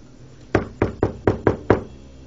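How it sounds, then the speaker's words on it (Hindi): Six firm knocks land on an inner door in quick, slightly uneven succession, close and sharp against a quiet room. "अंदर का दरवाजा खटखटा रहा है"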